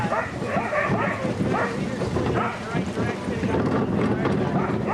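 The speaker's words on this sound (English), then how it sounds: "we got a whole bunch of crazy dogs in here" A large team of sled dogs barks and yips excitedly close by in a continuous, overlapping chorus, while people talk over the noise.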